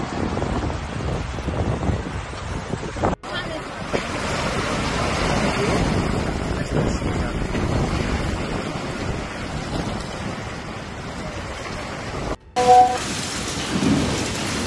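A violent storm in Spain with winds above 100 kilometers per hour brings heavy rain lashing and gusts roaring, punctuated by rumbling thunder, near and loud among boats in a harbor.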